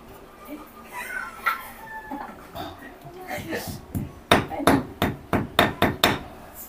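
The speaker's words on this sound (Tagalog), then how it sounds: "Oh, martilyo, martilyo." Sharp hammer blows ring out, first sparse amid voices and faint animal calls, then a quick regular run of about ten loud strikes close by.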